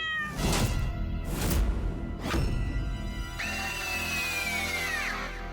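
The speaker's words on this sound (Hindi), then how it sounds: "बिल्ली की आवाज सुनी तुमने?" A cat meows several times, close and clear, followed by one longer drawn-out meow with a falling end.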